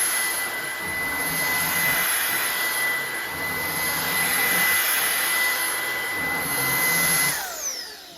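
A Ryobi 18V ONE+ cordless stick vacuum runs with a steady high-pitched whine and airy rush. It holds close and even for several seconds, then starts to wind down at the end, with no talking over it.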